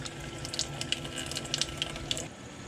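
Water runs steadily from an RV tap through a newly fitted filter, a soft continuous hiss with a few faint clicks and drips over it, close by and with no talking.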